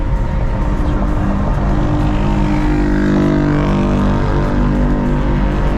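An 800-horsepower turbocharged Infiniti G37 accelerates hard on a night drive, its engine droning loud and close with a steadily climbing pitch and no talking.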